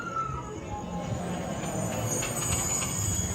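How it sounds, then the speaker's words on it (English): A Disneyland train rumbles in as it arrives, giving a steady, continuous roll of wheels and carriages under open-air ambience with faint birds. "We got one train coming up."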